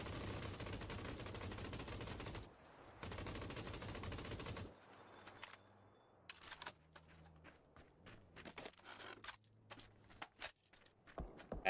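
Rapid bursts of gunfire from a shooter video game match, with sustained automatic fire early on giving way to scattered single shots and footstep-like clicks at varying distances.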